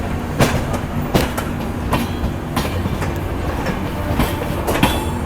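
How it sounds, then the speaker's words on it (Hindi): Rajdhani Express pulling out of Raja Ki Mandi railway station, a steady close rumble with repeated sharp clickety-clack wheel beats over rail joints at uneven intervals throughout, no voices. "फिलहाल अपनी ट्रेन राजा की मंडी रेलवे स्टेशन से निकल रही है"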